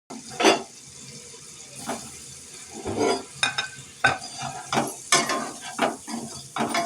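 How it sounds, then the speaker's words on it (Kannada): Boiled eggs frying with chilli powder, salt, garam masala and coriander powder in a pan for egg biryani, a steady sizzle broken by repeated scraping stirs and clinks of a spoon against the metal, close and fairly loud. "ಈಗ ಬಾಯ್ಲ್ ಆಗಿರುವಂಥ 4 ಮೊಟ್ಟೆಗಳನ್ನ ಮಸಾಲ ಪದಾರ್ಥಗಳ ಜೊತೆ ಹಾಕಿ ಫ್ರೈನ ಮಾಡ್ಕೊತೀನಿ"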